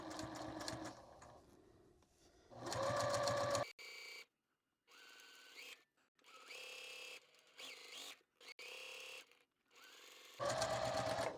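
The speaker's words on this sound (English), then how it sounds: "I'm going to chain sew, and I'm just going to put these 4 pieces on" A sewing machine chain-sews four quilt pieces together with cream thread and a quarter-inch seam for a Japanese-inspired sashiko and hexagon quilt. It runs in several close, steady whirring bursts separated by short pauses.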